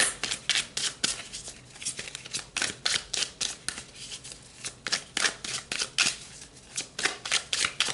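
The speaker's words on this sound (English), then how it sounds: "So let's pull some more cards." Tarot cards being shuffled by hand, a close, continuous run of crisp riffling and flapping bursts in an irregular rhythm, loud and unaccompanied by talk.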